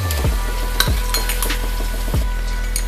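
A Mughlai paratha fries in a pan over low heat, giving a steady close sizzle. A utensil knocks or scrapes against the pan a few times, at irregular intervals.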